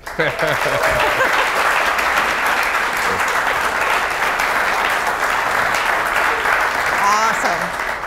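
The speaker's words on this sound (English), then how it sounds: "give a round of applause to Joey" A crowd claps steadily in sustained applause, with a few voices heard at the start and near the end.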